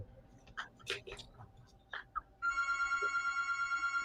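A home telephone rings with a steady electronic trill that starts partway through, loud and continuous, after a stretch of quiet room clatter.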